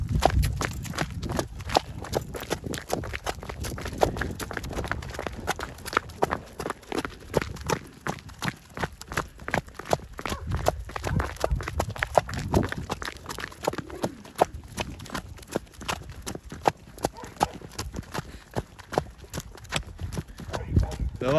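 Heavy Ardennes draft horses clip-clop on hard ground, with quick, uneven hoofbeats that stay close and sharp over a long stretch as people talk nearby.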